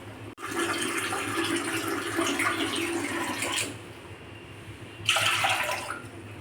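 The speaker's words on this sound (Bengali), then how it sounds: "প্যানে 3 কাপ পানি দিয়ে দিচ্ছি।" Water being poured from a cup into a pan for chicken corn soup, a close, steady splashing gush in two separate pours with a brief pause between.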